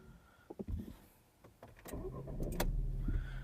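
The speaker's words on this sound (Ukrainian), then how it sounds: "я показую вам, як запускається даний автомобіль." A 2012 Skoda Superb with a 1.4 petrol engine and manual gearbox cranks briefly after a few clicks, then settles into a steady low idle rumble close by.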